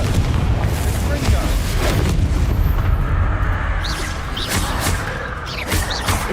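Confringo blasting spell explosions in Hogwarts Legacy, heavy continuous low booms and rumbling impacts layered with combat effects, loud and sustained, with a voice speaking briefly.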